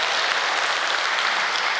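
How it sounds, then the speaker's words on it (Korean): Welcoming applause for a leader being invited to the stage at a peace blessing ceremony: a loud, continuous wash of many hands clapping together, steady and dense for about two seconds. "큰 환영의 박수로 주진 대장님을 모시겠습니다"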